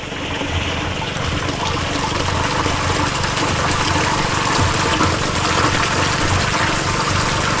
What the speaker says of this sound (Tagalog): Lalagay muna natin tubig ah. sa drum.